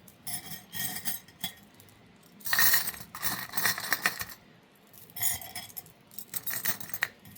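A bunch of keys jangles in repeated bright metallic bursts, clinking and rattling close up with short pauses between shakes.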